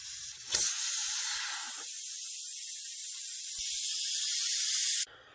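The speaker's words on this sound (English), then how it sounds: "there is a bit of gas still in here, so we're just going to have to let that come out ever so slowly" Residual gas hissing slowly out of a VFC HK416 airsoft gas magazine, a steady close airy hiss that starts abruptly, holds for about four and a half seconds and cuts off sharply, with a faint click before it.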